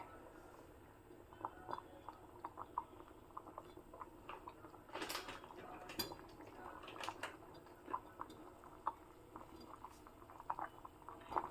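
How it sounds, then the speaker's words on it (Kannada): Tomato rasam (saaru) with green chillies coming to a boil in a pot on the stove, a quiet continuous bubbling with small pops and patters, close and steady with a brief busier burst midway. "ಈಗ ಕುದಿ ಬರ್ತಾ ಇರೋ ನಾನು ಸ್ಟವ್ನ ಸ್ವಲ್ಪ ಸಿಮ್ಮಲ್ಲಿ ಇಡ್ತಾ ಇದ್ದೀನಿ"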